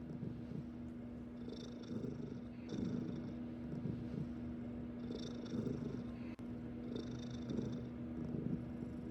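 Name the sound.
cat purring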